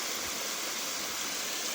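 Water pours strongly over the edge of a pond near a Mahadev temple, a steady, dense rushing wash with no breaks, heard close but fairly soft throughout.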